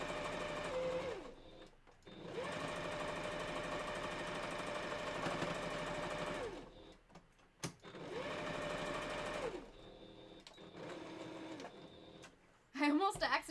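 A sewing machine stitching a Halloween candy corn fursuit pillow, its loud rapid whirring chatter running in several long bursts separated by short pauses, with a voice briefly heard near the end.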